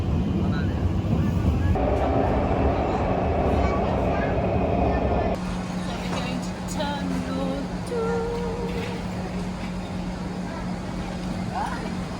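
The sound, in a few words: metro train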